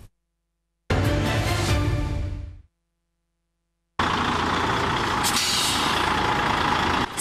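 A truck idles with a loud mechanical rumble, stops abruptly, and after a pause a sharp, hissing, broadband rush follows that fits an air brake release. It ends with the hiss still going.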